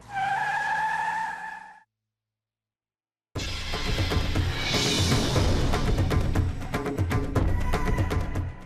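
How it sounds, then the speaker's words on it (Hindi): A car brakes hard to a stop with a long, loud tire skid. It follows a brief musical tone and a moment of silence, with scattered clicks and sharp transients through the squeal. "ड्राइवर गाड़ी रोको।"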